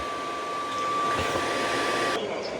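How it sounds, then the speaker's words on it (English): A Roborock F25 Ultra docking station starts drying its mop, giving off a steady, moderate fan hum with a faint high tone that cuts out near the end. "Drying is starting."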